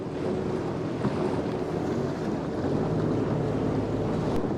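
Small boat moving slowly along a Canadian shoreline over water with submerged marble blocks, a steady low engine and water wash with wind buffeting the microphone, continuous and fairly loud.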